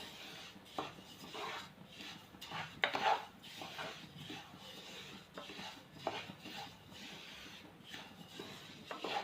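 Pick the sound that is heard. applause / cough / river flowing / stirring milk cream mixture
stirring milk cream mixture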